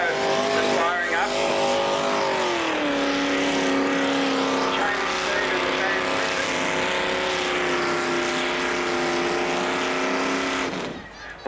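A pulling tractor called Agro fires up at a 1986 tractor pull, its engine roaring loud and sustained with a shifting, droning pitch. A commentator talks over it through a public address system.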